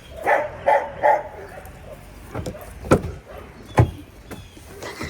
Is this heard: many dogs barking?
yes